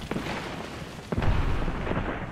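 A grenade goes off in a first-person shooter game, giving a dull booming burst about a second in that rolls out over constant background game noise, with smaller pops before and after.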